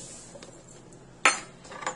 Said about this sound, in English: So I'm just going to use my 1/3 measuring cup and measure 2 of them to get 2/3.